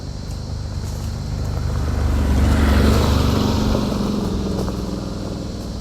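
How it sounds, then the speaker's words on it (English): A John Deere 3046R compact tractor engine labours steadily while pulling a tree base out of the ground, a constant low drone with wind noise that swells slightly in the middle, no voices. "I thought this might work to pull the base of the tree out with a tractor"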